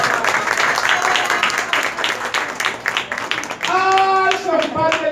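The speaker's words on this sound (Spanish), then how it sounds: "Aplausos, señor." Audience applause at an open-air town festival event in a plaza in Sonsonate, a steady crowd clapping for several seconds, followed at the end by a voice speaking over the fading claps.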